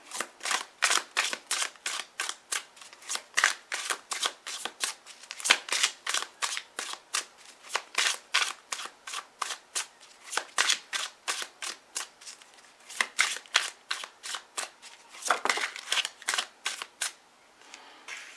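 Tarot cards being shuffled in quick, crisp riffling bursts that repeat steadily for a long stretch, close and fairly quiet with no talking.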